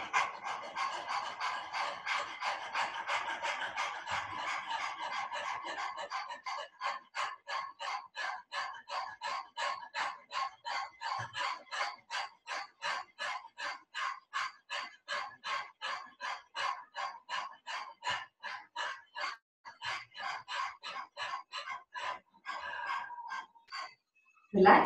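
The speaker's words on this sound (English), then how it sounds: "Dog breathing. Put your tongue out," Rapid rhythmic panting from a person doing the dog-breathing yoga exercise with tongue out, seated in Vajrasana and leaning forward; dozens of quick, even breaths in a steady train, close and clear.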